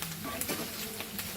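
Pork for a Goan sorpotel sizzles and fries in a pan, a steady crackling hiss with occasional stirring scrapes, close and continuous with no talk.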